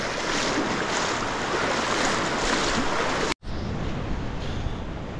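Fast floodwater in a village river after a night of heavy rain, a loud continuous rushing roar that fills the clip, broken by a brief cut before it resumes.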